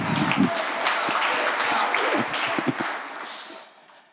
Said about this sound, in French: je vous demande des grands applaudissements pour eux